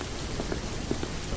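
Steady rain falls on the ground in an animated story, a dense close hiss with scattered heavier drops pattering through it.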